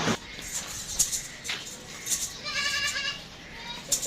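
A goat, four to six teeth in age, at a livestock sale in Orangi Town, Karachi, bleating in a short wavering call among several faint shuffles and clicks at close range.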